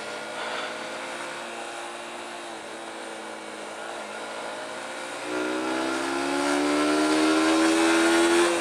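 A Honda CBR400 motorcycle ridden at night on skinny tyres, its engine a steady close drone that rises in pitch and grows louder partway through as it accelerates, with no talk over it.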